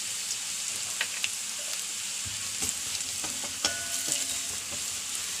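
Onion, curry leaves and chili frying in oil in a pan give a soft, continuous sizzle with a few sharp stirring clicks and scrapes against the metal, moderately quiet and without speech.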